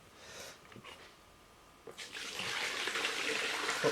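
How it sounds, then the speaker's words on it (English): Rinse water pours into a bucket during a rust-removal clean-up of a Sheldon lathe four-jaw chuck. A steady, moderately close splashing stream starts partway through, after a few quiet clinks. "Put my rinse water in that bucket."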